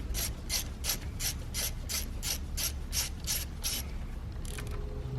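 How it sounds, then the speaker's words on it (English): A ratchet wrench loosens a size 8 bolt on the engine of a 2013-2020 Ford Fusion during camshaft position actuator replacement, giving about eleven even, rapid clicking strokes close up before a short pause and a couple of final clicks. "So you're going to loosen this bolt here,"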